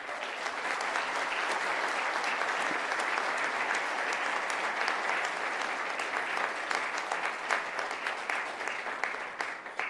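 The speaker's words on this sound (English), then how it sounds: "a huge round of applause for my entire mighty team" A conference audience at a valedictory session applauds the organizing team, dense sustained clapping running steadily for about ten seconds at moderate distance, with no voices over it.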